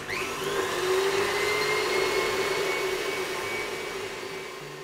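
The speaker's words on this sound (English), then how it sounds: "I'll put this on high speed until it forms stiff peaks" A stand mixer whisks egg whites and caster sugar on high speed, a steady, loud, close whirring drone with a high motor whine that holds constant throughout, with no talk.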